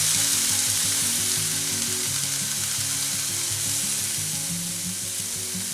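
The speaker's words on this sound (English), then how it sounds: "So what I'm going to do is add the peppers." Peppers hit a hot pan and fry. A loud, dense, continuous sizzle fills the clip up close, with steady crackling and some stirring movement underneath.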